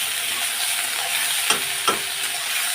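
Beans and eggplant fry in a pan with a steady, loud sizzle, and a spatula stirs and scrapes through them twice near the end, with no one speaking.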